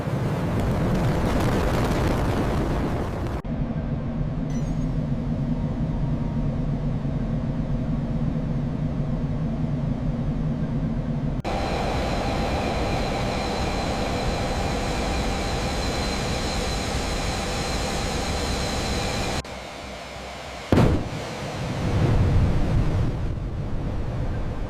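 A restored Northrop F-5 Freedom Fighter jet roars loudly through takeoff, a dense, sustained rumble cut into several abrupt sections with brief dips and bursts near the end, with no voices.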